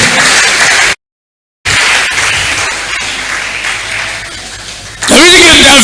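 A church congregation claps and cheers during a worship service, a loud, dense wash of applause that runs nearly throughout, broken by a short silence, and swells again at the end.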